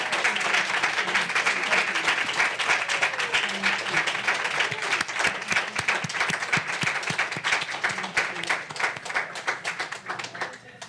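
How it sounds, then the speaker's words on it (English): A church congregation stands and applauds to welcome new members at a Sunday service, with sustained dense clapping filling the room for the full stretch and occasional louder individual claps near the front. "Will the congregation stand and give the new members an applause of welcome"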